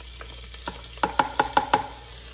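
Food sautéing in oil in an open electric pressure cooker, a soft sizzle under a quick series of sharp scraping stirs, about five clear strokes in a row near the end, with no talking.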